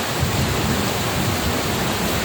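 A paddle wheel aerator churns the water of an aquaculture pond, making a dense, steady splashing roar that stays loud and unbroken throughout, with no voices heard.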